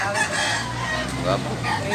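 A fighting rooster for sale crows in a drawn-out call, close and clear, with other fowl clucking around and a voice speaking faintly in the background.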